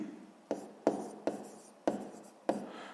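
A pen writes a math answer by hand on paper, making five short scratchy strokes in a quick uneven rhythm, close and quiet.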